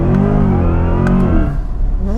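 A Corvette with electric all-wheel drive launches hard in first gear, its engine a loud, close, dense roar that holds steady and then climbs in pitch as it pulls away, with no voices.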